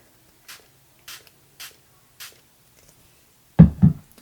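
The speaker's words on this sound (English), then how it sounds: "what I'm going to do with this is actually spray it on the palette" Mist and Fix setting spray hits an eyeshadow palette in four short, soft spritzes spaced about half a second apart, followed by two louder dull knocks.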